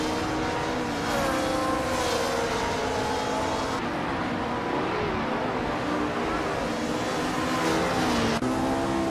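A 1965 Lotus 33 race car engine in a racing video game drones steadily at high revs for about nine seconds, its pitch shifting up and down through gear changes, with no talk over it.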